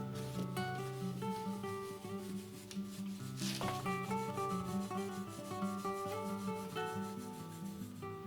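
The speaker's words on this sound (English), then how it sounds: "Now I'm just going to finish it off with some steel wool." Steel wool rubs along the grain of a wooden NordMende Elektra 58 radio case in smooth, repeated sanding strokes. A constant tonal hum sits underneath, and no one speaks.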